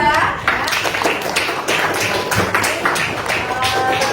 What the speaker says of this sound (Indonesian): Oke, tepuk tangan lagi untuk kelompok 2.